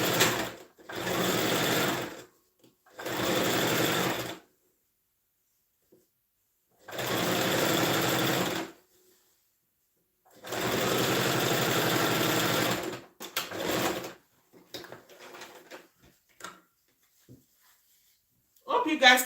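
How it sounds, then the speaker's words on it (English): A sewing machine stitching fabric for a kid's shirt runs in several loud bursts of steady rapid whirring, separated by pauses, with brief rustling and talk in between. "Let me sew it down before stitching it on the fabric."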